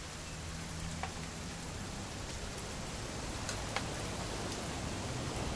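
Steady rain falls in a continuous hiss in the video game What Remains of Edith Finch, with a few distinct drops pattering now and then.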